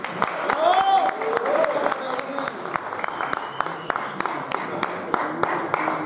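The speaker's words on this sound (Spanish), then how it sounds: "Fuerte aplauso." Audience applause following a Christmas carol sung by a theology class, steady clapping with sharp individual claps over a continuous crowd wash, mixed with voices and a high tonal sound early on.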